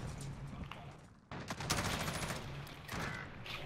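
Gunfire in a first-person shooter game set around trenches, with sniper shots among loud rapid bursts that start after a quieter opening and keep going in close, dense volleys.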